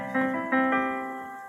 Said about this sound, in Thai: อันนี้คือเสียงเปียโนนะครับ